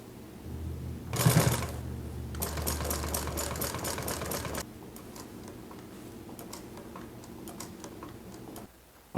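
A Consew 206RB industrial sewing machine runs in bursts of rapid, even stitching clatter, then slows to sparse ticking clicks, close and moderately loud.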